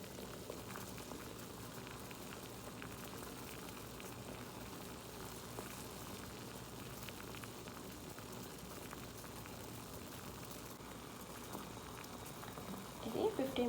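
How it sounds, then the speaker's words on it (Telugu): Rosemary leaves simmer in water on a stove with a steady, even bubbling that holds at a constant low level. It ends in a short burst of louder clatter, and no voices are heard. "ఇంకా చాలా మంచిగానే బాయిల్ అయింది"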